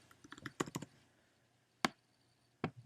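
A few quick keyboard keystrokes entering image dimensions, a brisk cluster of clicks followed by two isolated key taps, close and fairly quiet.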